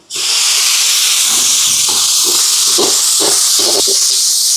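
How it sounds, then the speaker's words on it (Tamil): Tomatoes hit hot oil with ginger-garlic paste and burst into a loud, steady hiss of sizzling that fills the whole stretch, with faint scraping stirs underneath. "தக்காளி பழம் வதங்கட்டும்"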